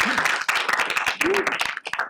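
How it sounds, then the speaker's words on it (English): A conference audience at a panel on caste in media and diaspora gives a round of applause, with sharp individual claps in an uneven rhythm and a few voices and whoops mixed in. "I'd love a huge round of applause, louder and louder"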